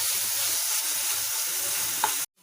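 Medium tomato frying in a pan for Mumbai-style pav bhaji, a steady close hiss of sizzling oil with faint stirring scrapes, continuous and unaccompanied by talk before cutting out abruptly near the end.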